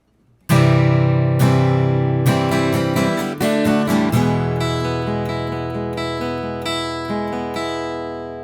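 Electric guitar strumming the chords of a song and picking a string arpeggio pattern, with bright, ringing chord hits followed by sustained, decaying notes, played alone and close up.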